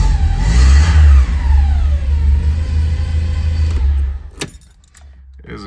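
A Porsche 944 engine rumbles loudly and steadily while keys jangle at the start, then it cuts off near the end, leaving a few faint clicks.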